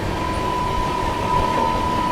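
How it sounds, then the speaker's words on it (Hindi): The Delhi–Azamgarh Kaifiyat Superfast Express rolls into a railway station with a steady, loud rumble and a sustained tonal whine, continuous throughout with no talk. "सामने से आप लोग आते हुए देख रहे हैं दिल्ली आजमगढ़ कैफिया सुपरफास्ट एक्सप्रेस आ रही है दोस्तों सामने से"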